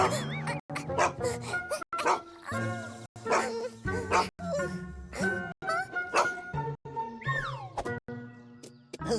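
A dog barks and yips in quick bursts with short gaps, close and lively, mixed with whimpering sounds.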